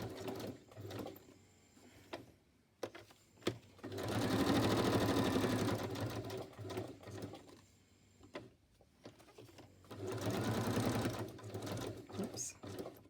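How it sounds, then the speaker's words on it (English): A sewing machine whirs in two sustained bursts of rapid stitching, separated by quieter stretches with clicks, handling noises and some talking. "I'll just bring my sewing machine over."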